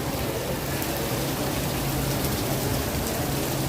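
Heavy rain pours down in New York City, a dense, steady hiss of water on surfaces, loud and continuous with no voices.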